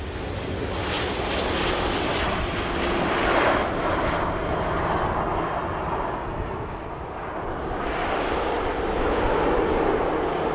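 Lufthansa jet airliner at Manchester Airport, a loud steady engine roar and rumble that swells and eases slightly as it passes, filling the whole stretch without voices.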